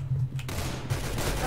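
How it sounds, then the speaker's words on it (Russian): A machine gun in the Roblox shooter Arsenal fires in short bursts, sharp and close, across a brief moment of play. "О, пулемет, мое любимое оружие"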